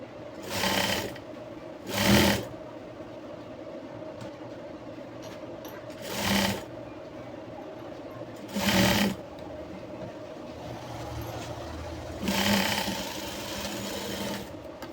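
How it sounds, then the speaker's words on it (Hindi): A sewing machine stitching jumpsuit fabric runs in five short bursts of whirring, each a second or so long, separated by pauses filled with a low background hum. "इस तरह से खींच के आपको ये सिलाई करनी है"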